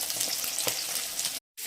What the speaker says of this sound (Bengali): মাছ তো আমি ভাজা বসিয়ে দিয়েছি